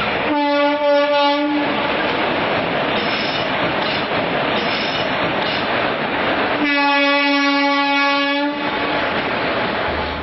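A passenger train on the Jaipur to Delhi Sarai Rohilla line rumbles along with constant clatter. Its horn sounds twice in long, loud blasts, once at the start and again near the end.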